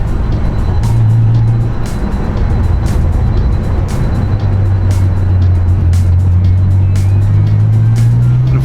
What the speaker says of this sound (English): Okay, our VR4 test drive. Been a while since I've driven one of these. Definitely has the power.